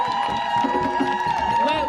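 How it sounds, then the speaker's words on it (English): A crowd at a Sudan march in London cheers and applauds for an MP who has spoken about Sudan. The voices rise loudly and continuously, with sustained shouting and clapping throughout. "can we give a massive round of applause for our first ever MP that's spoken about Sudan in our"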